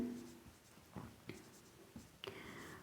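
Pen writing on paper, faint scratchy strokes with a few distinct taps and scrapes spaced irregularly, close and quiet with no talk.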